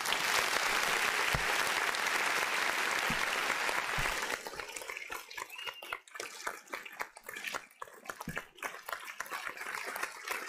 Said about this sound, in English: Harry needs some applause